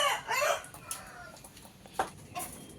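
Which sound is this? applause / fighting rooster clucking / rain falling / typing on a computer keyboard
fighting rooster clucking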